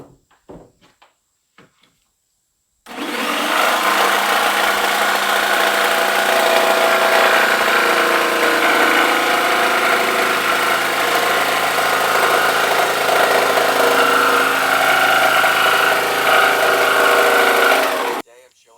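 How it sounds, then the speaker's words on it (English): A jigsaw cuts through wood for a replica Chinese wheelbarrow, a loud, steady buzzing whine running about fifteen seconds after a few faint knocks, then stopping abruptly. "Now, using my jigsaw"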